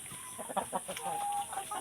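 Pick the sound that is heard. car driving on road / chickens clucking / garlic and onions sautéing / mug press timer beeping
chickens clucking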